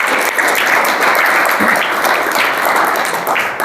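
Loud, sustained applause from an audience at a Hindi literary event honouring an IAS officer, a dense wash of many hands clapping steadily throughout without a break.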